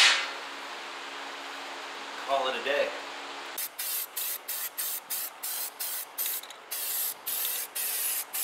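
Primer is spray-painted onto an aircraft propeller outdoors: a steady hiss gives way to a regular series of short, close spray bursts, roughly one every half second. A brief voice is heard partway through.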